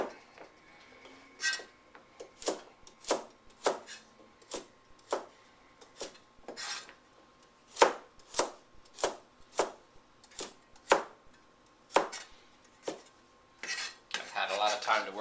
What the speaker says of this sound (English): The carrots, you can do the same thing. I'm just going to cut them in half-inch.